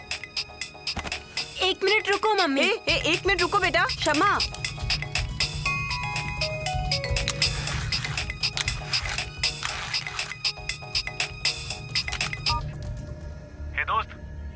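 A phone's melodic incoming-call ringtone plays, its stepped electronic tones sounding faintly and continuing under a voice and other speech for most of the stretch.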